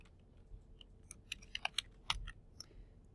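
Someone types an author's name on a computer keyboard, a scattered run of light, sharp key clicks at irregular spacing over a quiet room hum, with no talking.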